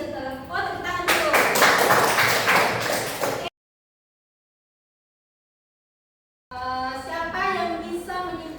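Students clap together in a classroom during a math lesson, a loud burst of dense applause with voices mixed in, broken by a stretch of complete silence before voices and sound return.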